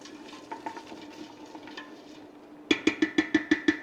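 Chicken fat frying in a pan and being stirred, a light sizzle with soft scrapes that gives way to a run of sharp, rhythmic clinks of the utensil against the pan.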